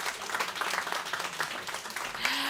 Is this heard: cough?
no